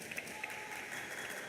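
A pickleball match crowd at the Vietnam Pickleball Open applauds, a faint, steady wash of distant clapping throughout.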